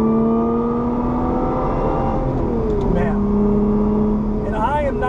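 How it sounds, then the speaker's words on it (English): Supercharged Lotus Evora Heritage Edition fitted with an aftermarket airbox, blipping on a downshift: a loud, steady engine hum heard from inside the car, its pitch dipping and swooping as revs change, with a whine rising near the end. "This actually has an aftermarket airbox on it, so you can hear more of what the supercharger does."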